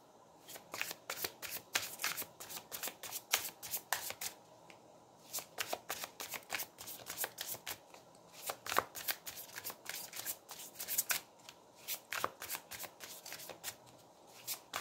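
Tarot cards shuffled by hand in rapid riffling bursts, a steady flutter of crisp card slaps broken by brief pauses, close and fairly loud with no voices.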